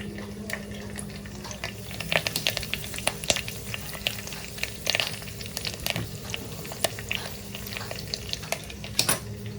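Tomatoes frying in hot oil while making vetha kuzhambu, with a low steady sizzle broken by frequent sharp pops and spits of splattering oil, close and moderately loud.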